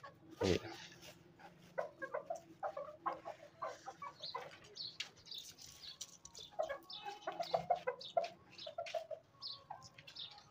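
Chickens cluck and squawk in scattered bursts around a quiet farmyard, with one sharp louder call near the start and soft background noise throughout.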